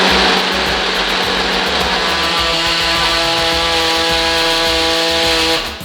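A food processor whizzes hummus with a pinch of salt added, making a loud, steady motor whir with a rising tonal hum that runs unbroken before winding down at the end.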